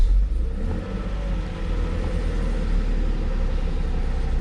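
With gas held on, the engine of an old Mercedes-Benz 300SL that sat for nine years runs as a steady, close, low rumble, holding slightly raised revs without sharp bursts.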